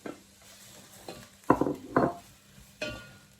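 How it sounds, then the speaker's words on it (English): A spoon stirs kale into a pot of simmering barley and butter bean soup, making a few separate scraping clinks and wet stirring strokes over a soft background, with no talking. "mixing it in with the kale there a little bit, that's fine, it's all going in together"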